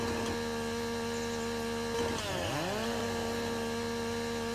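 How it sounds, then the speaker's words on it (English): A chainsaw in Farming Simulator 19 cuts limbs from a felled tree, its steady engine drone holding near and loud, then rising into a sweeping rev partway through. "So chainsaw out to delimb this tree."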